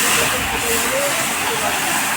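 Bay leaves dropped into hot oil in a large wok sizzle with a loud, steady hiss that barely changes, heard up close with no pauses.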